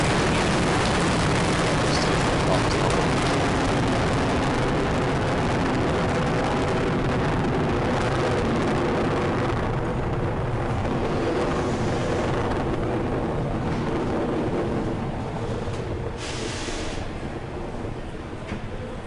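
Falcon 9 rocket climbing after liftoff from Space Launch Complex 40 on a Dragon resupply mission, a loud, continuous broadband roar and rumble that holds steady throughout with little variation.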